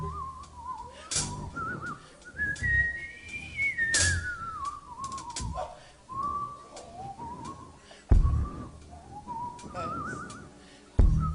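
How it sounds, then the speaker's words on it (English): A woman whistles a wavering, sliding melody with vibrato, clear and close, with a few bumps and breaths around the phrases. "now she's whistling"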